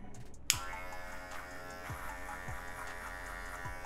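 An electric hair clipper set to zero buzzes steadily while it cuts a man's hair, switching on sharply after a brief quiet start, with soft repeated strokes as it passes over the head.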